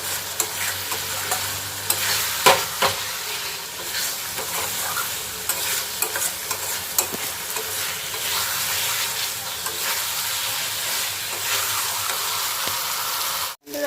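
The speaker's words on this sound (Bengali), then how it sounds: "চিংড়ি মাছগুলো দিয়ে ভালো করে এবার কষাতে থাকবো।" Prawns sautéing in a pan for a home-style prawn and potato curry, a steady close sizzle with frequent scraping stirs and clinks of the spatula throughout, no talk.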